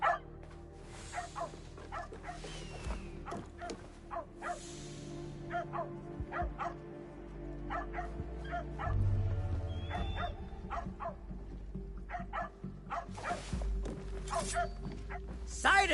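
A dog in Assassin's Creed Shadows barks and yips in short repeated bursts, with whimpering mixed in, over steady game ambience and music while a voice talks throughout.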